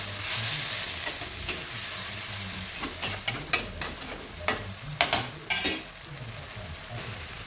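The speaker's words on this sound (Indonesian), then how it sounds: "Lanjutkan menumis dan jangan lupa dicicip bagian batangnya" Broccoli stir-fries in a pan with a steady sizzle, while a utensil scrapes and knocks against the metal in a run of sharp, close clatters midway through.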